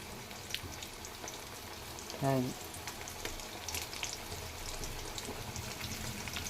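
Potato wedges fry in hot oil, a continuous crackling sizzle like light rain heard close and alone, with one brief tonal clink partway through.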